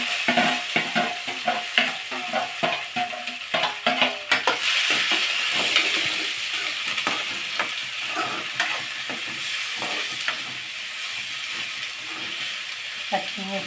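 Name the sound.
cashews, cucumber and carrot frying in oil with cumin and mustard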